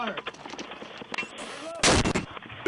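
A 60mm mortar fires once near the end, a sharp loud blast after shouted radio-style commands and voices.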